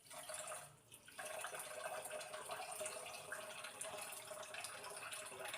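Rice and fenugreek seeds are washed by hand in water, giving a soft, steady sloshing and trickling close by, faint and continuous with a brief lull near the start.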